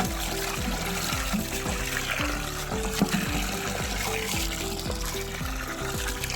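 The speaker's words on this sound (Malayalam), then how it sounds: "അപ്പോൾ അത് നിറയെ ഈ ബക്കറ്റിൽ വെള്ളം" Tap water runs steadily into a large bucket filling to soak new clay pots and earthen cookware, a continuous trickling pour heard close up with a faint background tone throughout.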